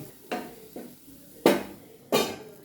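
A plate set over a pan of paneer bhurji, giving four distinct metallic clanks and knocks of growing strength, each ringing briefly before fading.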